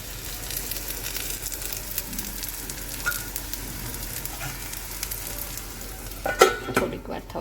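A vegetable gram flour pudla fries in oil on a pan with a steady close sizzle, and a louder burst of crackling comes near the end.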